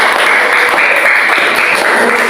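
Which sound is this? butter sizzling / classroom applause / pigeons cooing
classroom applause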